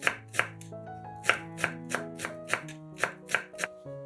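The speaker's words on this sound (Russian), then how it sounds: "Мелко нарезаем пучок укропа." A knife taps rapidly on a cutting board, finely chopping a bunch of dill in quick uneven strokes, with soft music playing underneath.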